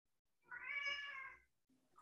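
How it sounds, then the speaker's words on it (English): A cat gives a single clear meow, rising and falling over about a second, heard indoors in a quiet kitchen while granola is being prepared, followed by a soft faint sound. "I hear a cat"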